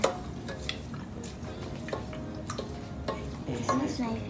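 A wooden stick stirs thick sadza, a maize-meal porridge, in a pot, with steady scraping and knocking strokes at close range and light talk in the background.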